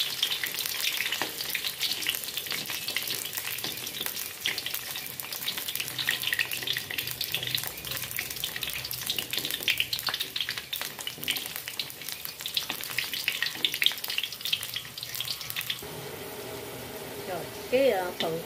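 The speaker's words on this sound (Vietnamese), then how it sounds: "cái phần khoai môn này mình chiên như vậy là được rồi các bạn," Continuous sizzle of taro frying in oil with scattered clinks of stirring, ending with a brief quieter stretch and a short voice.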